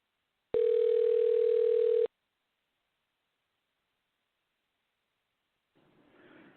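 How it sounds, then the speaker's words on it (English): A single steady electronic tone from an answering machine, loud and constant for about a second and a half, followed by silence and then faint noise. "At the tone, please record your message."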